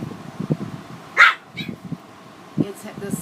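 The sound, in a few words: dog barking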